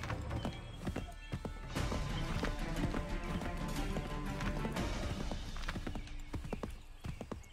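Horse hooves clip-clop steadily in a fast rhythm, close and loud, with an occasional whinny over a busy game soundscape.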